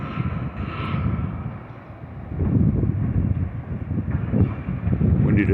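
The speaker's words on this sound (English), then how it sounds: "Windy today too." Gusty wind buffeting an outdoor microphone near a mall, a low rumbling roar that swells and eases throughout without pause.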